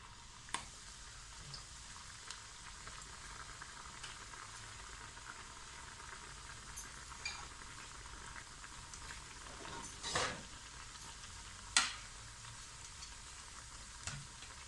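A tea-time snack fries in hot oil on a gas stove with a quiet, steady sizzle. A few sharp ticks and clinks of utensils break through it now and then.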